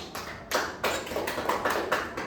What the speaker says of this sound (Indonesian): Kita beri aplaus dulu untuk kelompok 1.